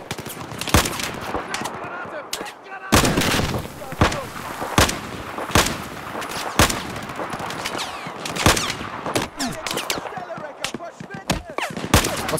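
Grenades and gunfire in a Battlefield 4 campaign battle in Shanghai: loud, sharp shots and blasts crack out at an irregular pace over a continuous rattle of combat, with someone speaking between them.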